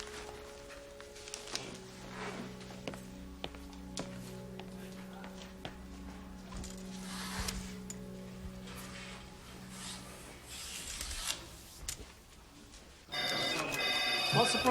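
Several telephones ring repeatedly in an office in a British police drama, their bells sounding over a busy background murmur, with a louder burst of noise at the end.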